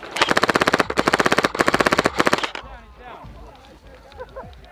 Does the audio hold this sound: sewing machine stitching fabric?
no